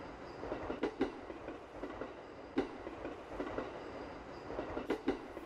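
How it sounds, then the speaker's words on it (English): Train running in the horror video game Yûrei Station, a steady rumbling rail ride with periodic sharp clickety-clack rail joint clicks, heard alone without talk. "I feel like this train will never stop,"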